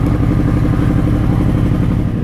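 A superbike's engine idles and revs close by with a steady, loud mechanical rumble and light clatter, running continuously without pause while being ridden out of a parking spot.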